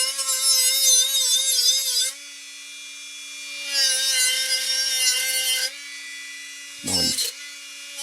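A homemade sanding disc grinds across a cypress stump in two long steady bursts of whining, buzzing abrasion, close and loud, separated by a quiet pause, with a brief knock near the end.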